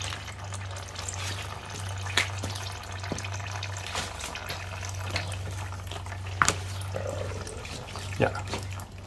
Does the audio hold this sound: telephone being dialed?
no